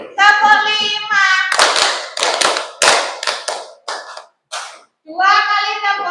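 Children in a classroom clap hands in rhythm, a string of crisp group claps that grows sparser and softer, framed by a voice calling out the count.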